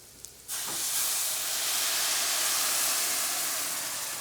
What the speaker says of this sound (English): and now I'm gonna go in with my wine.